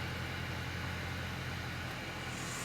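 A car engine idles with a steady, continuous low rumble, close and even in level, with no revving and no voices.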